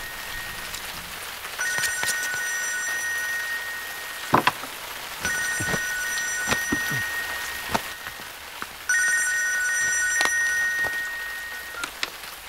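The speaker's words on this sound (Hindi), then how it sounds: "जरा फोन तो उठाओ।" A telephone rings in three long electronic bursts separated by short pauses, with a few sharp knocks and clatters in between.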